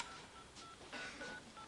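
A telephone keypad being dialed, a quick series of short, evenly spaced electronic tones faintly heard over a low background hiss.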